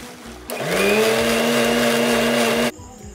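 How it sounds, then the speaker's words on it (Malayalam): A mixer grinder jar whirs loudly and close for about two seconds as it blends a milky jackfruit seed ice cream mixture, then stops abruptly. "ഇനി ഈ പാലിൻ്റെ കൂട്ട് നമ്മൾ ആദ്യം ചക്കക്കുരു അരച്ച് വെച്ചിരുന്ന അതേ മിക്സിയുടെ ജാറെടുത്തിട്ട് അതിലിട്ടിട്ട് നന്നായിട്ട് ബ്ലെൻഡ് ചെയ്യിപ്പിക്കുക"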